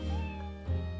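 A cat meows inside a cat-and-ghost detective video game, two clear synthesized mews about half a second apart, close and loud, with no talk over them.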